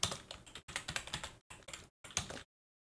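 Rapid typing on a computer keyboard, close and clattering in several quick bursts separated by short pauses, then silence.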